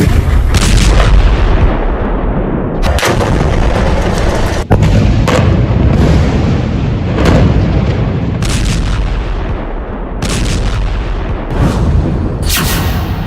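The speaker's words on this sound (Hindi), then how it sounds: "ये धमाके तो बहुत छोटे हैं" Loud war-footage barrage of explosions and artillery fire, heavy booming blasts arriving repeatedly every second or two over a rumbling, crackling background, no talking.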